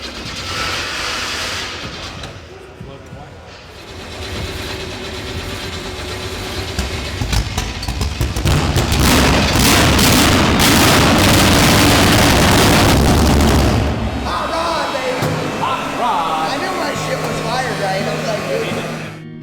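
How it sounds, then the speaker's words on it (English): A big block drag race car engine, being built for a dyno session, fires up and roars loudly for several seconds with heavy broadband rumble before dropping back toward a rougher idle. "They need to get the engine fired up and dialed in"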